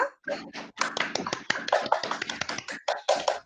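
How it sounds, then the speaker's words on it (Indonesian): A class of schoolchildren clapping hands together in a classroom, a burst of quick, uneven claps lasting a few seconds, close and fairly loud, with voices mixed in. "Tepuk tangan untuk kita."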